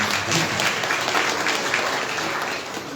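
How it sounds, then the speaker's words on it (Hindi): Townspeople gathered for a Shri Ram Katha at the Raghunath temple in Bilaspur clap together in a continuous, full round of applause that eases slightly near the end. "मेरी सारे नगर वासियों का जरा जोड़ लगा करके ताली चाहता हूँ।"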